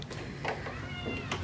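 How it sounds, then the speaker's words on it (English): A house cat meows at the door of a home office, wanting to come in: a few short, fairly quiet meows spaced across a brief moment, with no talking. "there's a kitty that wants to come in."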